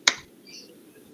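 A single sharp hand clap, close and crisp, standing alone in a quiet classroom.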